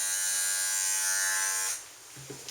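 Bravura hair clipper fitted with a peach snap-on 12 millimeter guard, buzzing loud and steady up close, then switching off and leaving quiet room sound with a couple of faint knocks.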